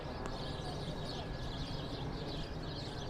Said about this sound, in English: All I hear is birds in it